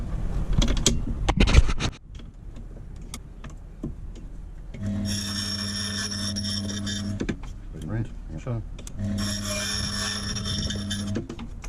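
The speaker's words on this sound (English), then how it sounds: "this key machine using the groove" A small motorized key cutting machine whirs in two sustained bursts with a high grinding whine as it cuts a key for a 2000 Toyota Hilux ute, separated by faint handling clicks and a brief voice.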